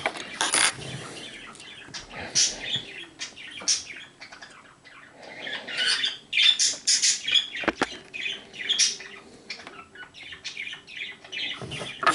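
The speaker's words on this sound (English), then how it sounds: "There's the noisy budgies in the background." Budgerigars squawk and chirp continuously, a busy chattering flock with shrill calls and occasional fluttering, moderately close.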